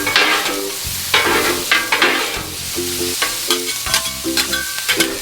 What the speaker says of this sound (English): Get the sugar from that pineapple mixed up with that Spam.